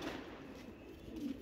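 Female pigeons in a loft coo softly, low throaty murmurs at the start and again near the end, faint and close in a quiet space.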